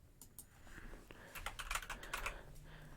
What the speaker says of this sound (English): Sorry if you still hear me typing.